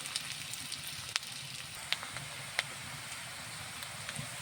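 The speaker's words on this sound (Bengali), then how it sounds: "এই যে পেঁয়াজটা ঝালটা একটু হালকা ভাজা হয়েছে" Onion and chili frying in oil in a home kitchen pan, before small puti fish go in: a steady soft sizzle with faint crackles and occasional sharp pops, close and fairly quiet, with no talking.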